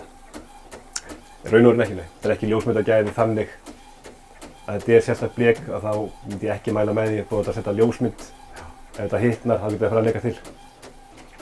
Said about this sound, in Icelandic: Það prentast út á þessum prentari hérna?